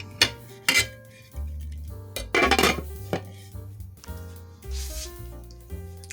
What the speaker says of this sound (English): Now we can put our lid over top.